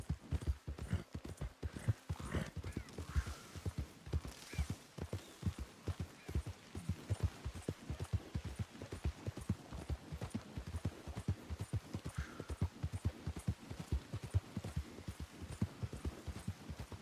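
Horse hooves clip-clop at a steady walking rhythm in a video game, close and continuous throughout, with no talk over them.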